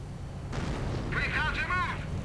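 A mortar half-track fires in a one-versus-one real-time strategy video game match. A dull boom is followed by whistling, wavering shell sounds, all mixed under a commentator speaking.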